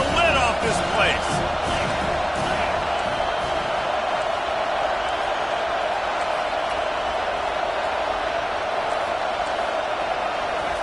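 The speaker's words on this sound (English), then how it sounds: "this crowd is tearing the lid off this place" Roaring stadium crowd at a Penn State versus Arkansas college football game, a dense sustained wall of cheering on a third down, loud and continuous for the whole stretch.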